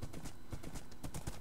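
Horse hooves clip-clop in a steady trotting rhythm as a horse is ridden in a video game, close and clear over a faint background bed.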